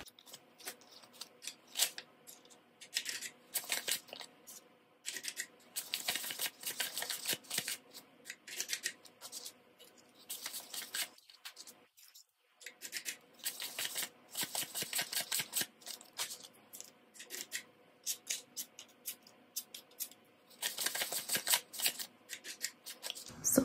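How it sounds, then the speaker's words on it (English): Paper banknotes counted by hand for cash envelopes, a steady run of crisp flicking and rustling bursts with a short pause midway, close and fairly quiet, no voices. "So let me count the cash really quickly."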